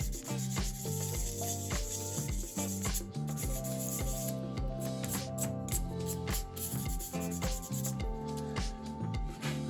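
Rapid back-and-forth rubbing of abrasive paper scuffs a part on a radio-controlled racing yacht under refit, keying it for epoxy; the strokes are close, brisk and continuous, with rhythmic scratchy pulses throughout.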